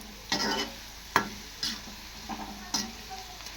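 Ragi flour pakoda fry in hot oil with a quiet steady sizzle. Several sharp ticks and scrapes of stirring break in at uneven intervals.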